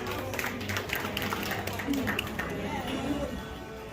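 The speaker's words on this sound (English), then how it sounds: "Give her a big applause." Audience applause at an awards gala in Arizona: a thick wash of fairly loud clapping and cheering from many hands, with voices talking and calling out over it.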